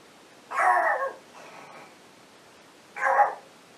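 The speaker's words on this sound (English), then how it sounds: "My puppy is barking." A puppy barks indoors, two short loud yaps about two and a half seconds apart with a softer whine-like sound between them, fairly close and with no talking.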